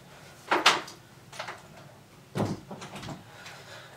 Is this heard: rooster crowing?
no